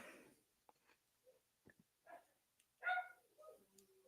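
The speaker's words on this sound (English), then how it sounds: "You hear my doggies barking in the other room." Dogs bark and yip faintly in the distance, a scattered series of short barks with quiet gaps between them.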